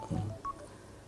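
A brief telephone tone sequence, a couple of short beeps over a low murmur in an indoor lecture setting.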